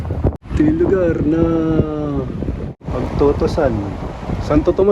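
Strong wind buffets the microphone at an open pigeon loft and aviary in Santo Tomas, Batangas, a low rumbling roar running under a man's close, loud speech throughout.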